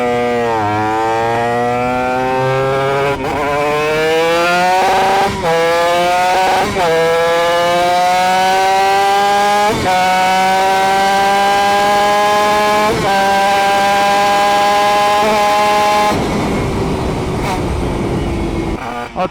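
A Honda RS125 NF4 two-stroke motorcycle engine revs loudly and close up while running slightly flooded, its pitch climbing and dipping through repeated throttle blips in one sustained roar.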